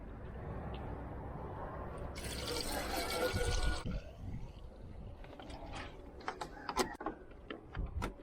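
Washer fluid pours into the windshield washer reservoir of a Ford Escape, a steady gurgling fill for a couple of seconds followed by scattered drips and small clicks, close by, with no talk.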